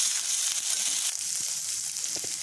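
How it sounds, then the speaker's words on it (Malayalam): Okra and green chillies with mustard seeds fry in oil for vendakka kichadi, giving a continuous, close hissing sizzle with a few faint knocks underneath. "കടുവ് വറുത്ത് വെണ്ടയ്ക്കായും പച്ചമുളകും കൂടെ അങ്ങോട്ട് ഇട്ടതേ ഉള്ളൂ"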